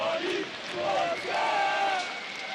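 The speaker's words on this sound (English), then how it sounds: "the cheering section there for Virtus.Pro just going wild" An esports arena crowd at ESL Cologne 2015 roars and cheers after Virtus.Pro wins against NiP, a dense wash of shouting voices swelling and holding loud across the whole moment.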